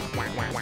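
Three quick, nasal duck quacks in rapid succession from the video game Duck Game, close and loud in a short burst.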